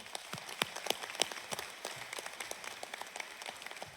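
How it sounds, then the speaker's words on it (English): Scattered audience clapping at an electric cooperative's annual meeting, a sparse, fairly faint patter of individual claps heard from some distance. "So let's give them a round of applause."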